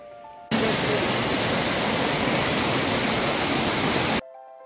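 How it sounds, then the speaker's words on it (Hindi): A waterfall on the Shrikhand Mahadev mountain trek, a loud steady rushing roar that starts abruptly and cuts off near the end. "सामने पानी का झरना है"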